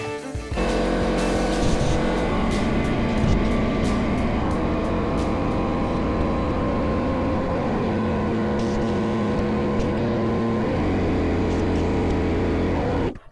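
A Suzuki LT-80 two-stroke ATV engine runs steadily for the whole stretch while being ridden, a loud, continuous buzzing drone with slight shifts in pitch and no talking.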